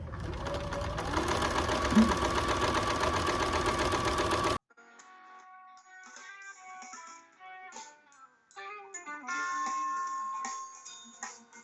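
A sewing machine fitted with a walking foot pieces quilt blocks in one loud, steady run of rapid stitching, then gives way to quieter, intermittent tones and clicks.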